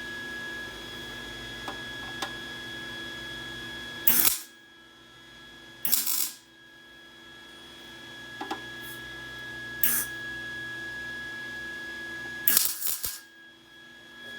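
Tack welding a bung onto a car oil pan gives short crackling bursts, about five spaced-out spits over a quiet electrical hum, close and sharp.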